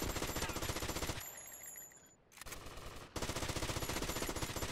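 Loud, sustained automatic gunfire in GTA Vice City, broken by a brief quiet gap partway through before the shooting resumes at full intensity.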